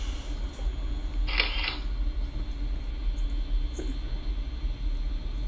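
Single camera shutter click with a brief mechanical whir partway through, sharp and close against a steady low hum, with no one speaking.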